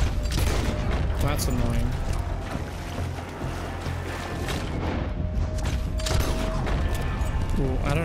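Gunshots crack through a Red Dead Redemption 2 firefight in scattered, sharp bursts over a rumbling, noisy game backdrop, with a player's voice briefly talking over the action.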